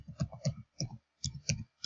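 Keys tapped on a keyboard while entering a password, then Enter pressed: six short clustered bursts of clicking spaced about a quarter second apart, fairly close and alone.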